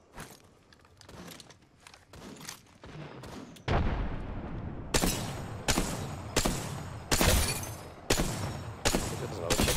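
Repeated loud gunshots from a weapon in the battle royale shooter Apex Legends, about eight sharp reports at a steady rhythm, the later ones heavier and close, with quieter game noise between them.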